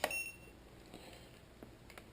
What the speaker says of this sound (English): we'll just use the tone tester here.